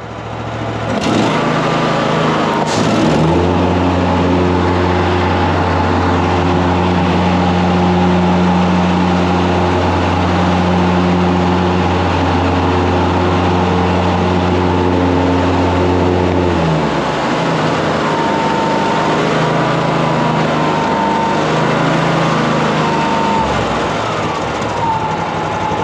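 A Cub Cadet Ultima ZTS1 46 zero-turn mower runs close and loud, its engine holding a steady droning hum with a rising pitch shift early on and a slight change in tone partway through, without any talk.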